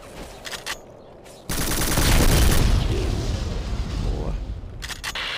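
Sustained automatic gunfire with heavy booms in the classic Xbox shooter Black, a loud burst erupting suddenly after quieter moments and rattling on for several seconds.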